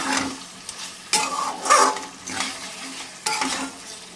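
Methi chicken being stirred in a pan, the meat already cooked through: a series of distinct scraping, stirring strokes roughly every second over a soft, steady sizzle, close and fairly loud, with no voices.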